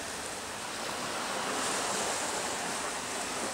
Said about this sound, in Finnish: Laineet liplattaa.